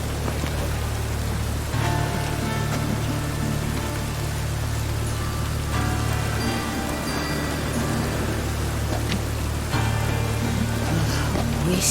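Steady rainfall hisses densely and evenly throughout, pattering on surfaces with a constant low rumble beneath and no voices.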